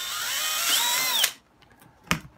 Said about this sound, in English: Being very careful not to drill a hole in my finger.